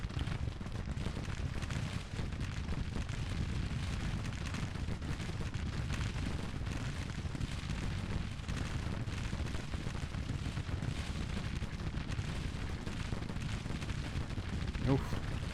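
Rifle volleys and artillery fire roar without a break in the Civil War strategy game Grand Tactician, a loud, dense and steady battlefield din with faint talk underneath.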